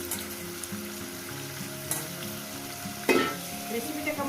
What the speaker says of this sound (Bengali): চিকেনটাকে দিয়ে সুন্দর করে আমি পেঁয়াজের সঙ্গে ভেজে নেবো